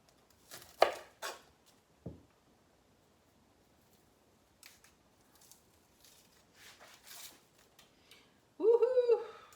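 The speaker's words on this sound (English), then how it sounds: "And I'm going to cut up my onion." A knife chops an onion on a cutting board in a home kitchen, a few sharp taps spaced apart among quiet handling noises, then a brief burst of voice near the end.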